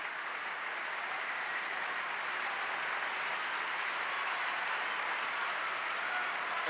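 A stadium crowd at a 3000m track race applauds in a steady, unbroken roar of clapping that holds at an even level throughout, with no voices standing out.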